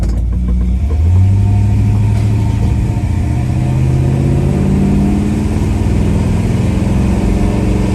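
A 1966 Chevrolet Impala accelerates on the road, its engine rising in pitch as it pulls through the transmission's gears, loud and close from inside the car, with no talking.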